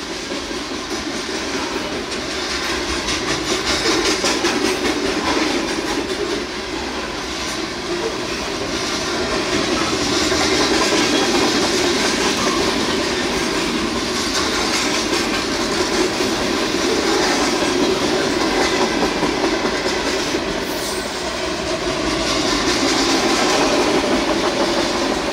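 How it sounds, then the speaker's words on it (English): A manifest freight train rumbles steadily past nearby with continuous rail clatter and low engine noise, swelling and easing slightly over the long pass. "Manifest freight train right there."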